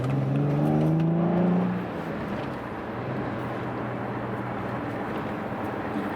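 A 2005 car on a test drive hums steadily from inside the cabin, with engine tone rising briefly under acceleration before settling into an even, constant road and engine drone.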